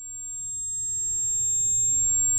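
A steady, high simulated tinnitus tone rings continuously in the ears, a thin sustained whine over a faint low rumble, with no speech.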